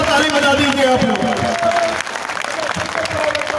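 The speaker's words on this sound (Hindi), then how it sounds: "एक बार जोरदार ताली बजा दीजिए आप लोग" A large crowd applauds loudly at a political rally in Jabalpur marking the martyrdom of Raja Shankar Shah and Kunwar Raghunath Shah. The dense, continuous clapping fills the air, and a voice carries over it.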